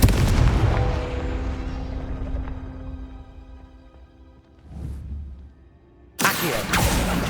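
A Confringo fire spell explodes in Hogwarts Legacy, a sharp blast with a long rumbling decay, followed by a brief whoosh and then another loud burst near the end.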